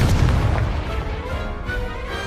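A Confringo blasting spell in a Hogwarts Legacy duel lands as a deep, loud boom that rolls off into a fading rumble, with no talking.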